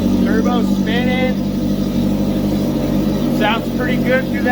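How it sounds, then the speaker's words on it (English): A turbocharged crosskart engine runs steadily with a low droning rumble through its exhaust and a faint turbo whine, while people talk over it nearby. "Sounds pretty good through that turbo and the exhaust."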